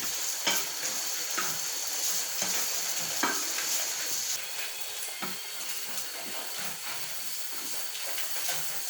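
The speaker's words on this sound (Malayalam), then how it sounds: "നമ്മൾ നന്നായിട്ടൊന്ന് മിക്സ് ചെയ്തെടുത്തിട്ടുണ്ട്." Liver fry mixture sizzling steadily in a pan as it is stirred, a hissing fry with intermittent scrapes and taps of the spoon at an even pace.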